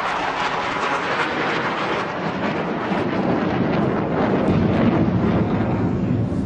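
A Pakistan Air Force JF-17 Thunder jet performing at the Dubai Air Show, heard as a loud, broad roar that swells toward the end, mixed with wind noise on the microphone.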